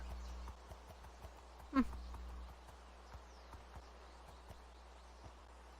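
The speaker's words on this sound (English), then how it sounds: "A lot of horses here." Faint video-game hoofbeats clop irregularly at a distance in a medieval town-building game, with a single sharp neigh rising briefly in the middle over a quiet, steady background hum.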